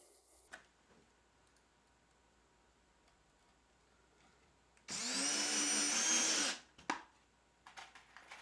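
A power drill driving screws to join shop cabinet parts, one loud whirring burst of about a second and a half after quiet handling clicks, followed by a few knocks and taps.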